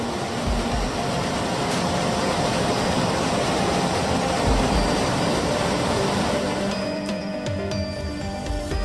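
Roar of the Iguazu waterfalls in Argentina: a dense, steady broadband rush of falling water, loud and continuous throughout, with faint scattered knocks and clicks near the end.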